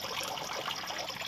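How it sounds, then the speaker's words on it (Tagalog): Dirty water trickling steadily through a DIY recycled filter bucket packed with charcoal and stones, a continuous close hiss of flowing liquid with no talking. "munaog to ang hugaw na tubig"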